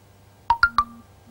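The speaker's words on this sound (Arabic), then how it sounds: "ده الموبايل عادي يا جماعه" A mobile phone gives three quick, clean electronic beeps in a row, each rising slightly in pitch, followed by a faint lingering tone in an otherwise quiet room.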